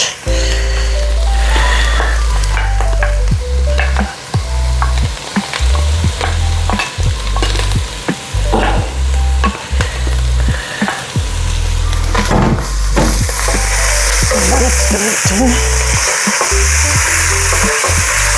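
Fish pieces frying in a pan for Sri Lankan fish cutlets, loud continuous sizzling with a rapid series of scraping stirs, close and busy throughout, with no talk.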